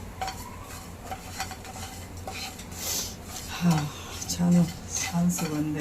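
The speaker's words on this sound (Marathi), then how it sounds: "आता आपले मसाले पण भाजत आलेत आणि खोबरं पण भाजत आले बघा" Spices and coconut roast in a dry pan for spiced rice, with clinking and scraping of a utensil against the pan and a faint sizzle, while someone talks over it.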